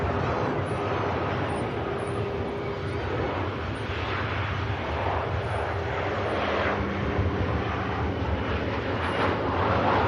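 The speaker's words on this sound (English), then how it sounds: "Ryanair on finals." A Ryanair airliner on final approach into Manchester Airport passes with a loud, sustained jet roar and whine that swells and shifts slightly as it nears, with no talking over it.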